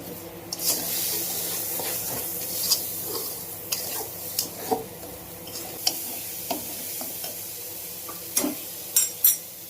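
A paste of ginger, cumin and chili with salt and turmeric sizzles in a pan while being stirred, a steady frying hiss broken by repeated sharp scraping clicks of the spoon, close and clear.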